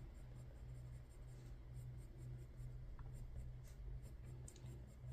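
Pencil colouring on paper, a soft continuous scratchy rubbing with light strokes, quiet and close against a low steady hum, with no talking.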